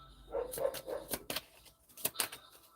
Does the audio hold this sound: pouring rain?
no